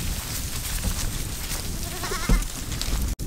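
Goats on a farm bleat now and then, with one wavering bleat standing out midway above steady outdoor background noise, and a brief thump near the end.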